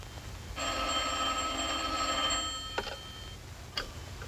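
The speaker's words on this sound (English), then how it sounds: "I was asleep when the telephone rang." An old-fashioned telephone bell rings for about two seconds as a radio drama sound effect, fairly loud and steady, followed by a couple of faint clicks and knocks as the receiver is handled.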